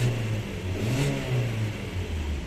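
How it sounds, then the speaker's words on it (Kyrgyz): A 2017 Kia Cerato engine revving under the hood, a close, steady mid-pitched drone with small rises and falls in pitch throughout, heard alone without voices. "Мотору сонун иштейт экен."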